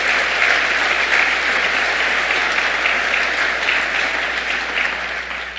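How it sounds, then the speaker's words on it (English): Sustained applause from a large audience at a bowling convention's annual meeting, a dense, even wash of clapping that holds steady throughout and eases slightly toward the end. "So please give a round of applause to the IBC Youth Committee and everybody involved."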